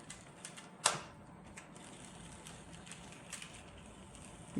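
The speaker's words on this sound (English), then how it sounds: "I should be able to peel off the transfer tape" Transfer tape peeled slowly off glitter heat-transfer vinyl on a mug makes a faint, fine crackle throughout, with one sharper snap near the start.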